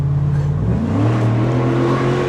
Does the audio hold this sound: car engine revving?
yes